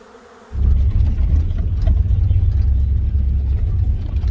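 Honeybee swarm buzzing loudly and densely close by, a sudden onset of low droning hum that stays continuous and thick, with faint rumble underneath.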